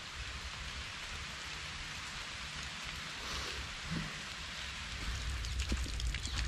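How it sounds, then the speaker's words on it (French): Steady rain falls at an old monastery in Polonnaruwa, Sri Lanka, with a constant hiss, a few louder drops pattering nearby toward the end. "Il pleut."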